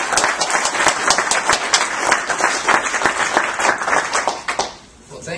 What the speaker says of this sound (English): How about a big round of applause for our Lieutenant Governor?